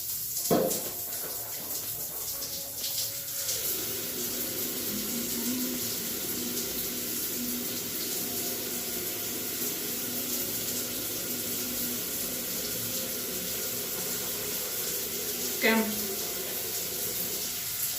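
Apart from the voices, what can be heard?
water running from a bathroom tap while washing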